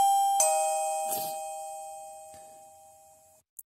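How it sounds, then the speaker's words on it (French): Wireless camera doorbell, model D1, sounds a clear electronic chime with a sustained ringing tone that fades slowly over about three seconds, followed by a brief faint click. "Donc, elle va faire un bruit de sonnette."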